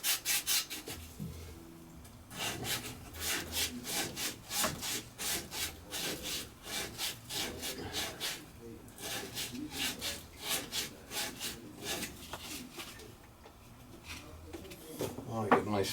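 Fresh sandpaper is rubbed back and forth in quick, even strokes, likely cleaning plumbing or heating parts, with a steady run of rasping passes and short pauses between bursts.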